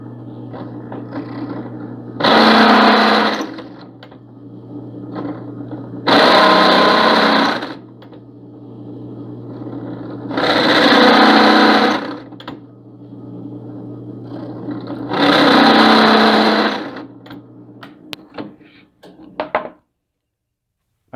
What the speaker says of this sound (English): Over at the drill press again.